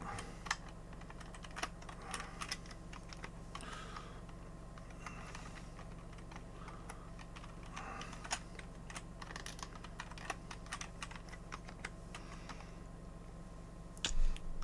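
A password typed on a computer keyboard during a Fedora 41 install, a steady run of quiet, close key taps with occasional louder strikes, no talking.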